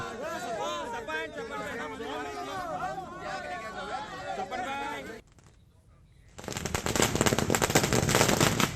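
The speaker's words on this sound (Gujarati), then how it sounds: "કોંગ્રેસ કાર્યકર્તાઓએ ફટાકડા ફોડીને ઉજવણી કરી" Congress party workers set off firecrackers in celebration: a dense, loud burst of rapid crackling pops follows a stretch of busy crowd chatter and a brief lull.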